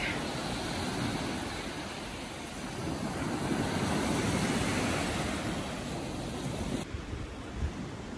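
Steady wash of ocean surf rolling onto Ubara Beach in Japan, broad and constant with wind rushing across the microphone, no voices.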